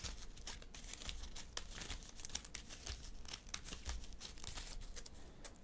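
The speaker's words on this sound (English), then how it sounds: "We'll shuffle the encounter deck." A deck of encounter cards for the Marvel Champions card game is shuffled by hand, giving soft crisp riffling and card-snapping bursts in an irregular rhythm, faint and close.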